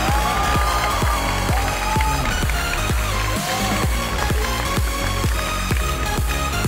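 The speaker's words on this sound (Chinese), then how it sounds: "掌声送给志朋。" A studio audience at a televised roast comedy show applauds, giving a loud, continuous wash of clapping with rhythmic thumping accents and music beneath, and no clear speech on top.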